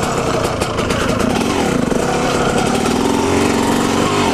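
A two-stroke Yamaha dirt bike riding through woods, its engine loud and close with a constant buzzing rasp and rising and falling revs as it gathers speed.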